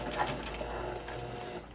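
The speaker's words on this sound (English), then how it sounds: "I'm going to begin stitching at 3/8 of an inch seam allowance. Back stitch at the beginning." A sewing machine stitches a quilted zipper panel seam for a shoulder bag at a 3/8-inch seam allowance, with a back stitch at the start; a steady, faint mechanical whir runs throughout.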